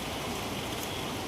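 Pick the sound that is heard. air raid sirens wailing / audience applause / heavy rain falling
heavy rain falling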